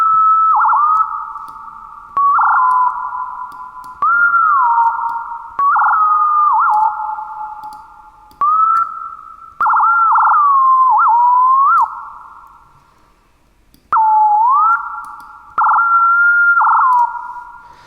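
Synthetic bird chirps: pure whistling tones that sweep and warble in repeated phrases with short pauses, each trailing off in a reverberant tail.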